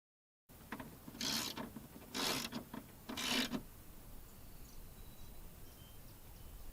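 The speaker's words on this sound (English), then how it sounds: "now I can put the bolts back in" Bolts on the window regulator of a 1998 Toyota Corolla are driven in with a hand tool: three short bursts of mechanical rubbing and ratcheting sound close up, with quiet pauses between them.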